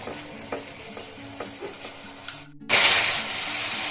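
Masala spice paste cooks over a medium gas flame: soft stirring taps and a low background tone, then after a brief silence a sudden loud, sustained sizzle bursts up close.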